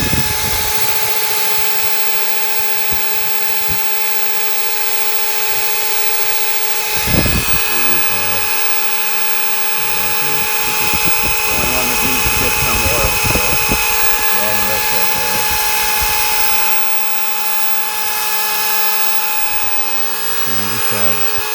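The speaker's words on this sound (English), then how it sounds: "I'm going to start this drill. It's going to get noisy." A power drill runs continuously to drive the oil system of an ERE-396 engine, a steady loud whine throughout, with a person talking over it in the second half.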